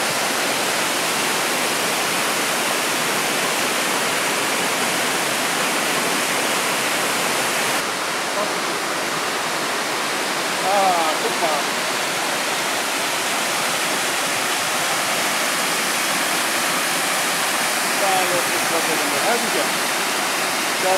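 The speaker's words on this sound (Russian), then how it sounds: "Еще один водопад." Waterfall in the Ravenna Gorge in Germany's Black Forest, a steady, dense roar of falling water that stays loud and unbroken throughout, with faint brief sounds surfacing now and then.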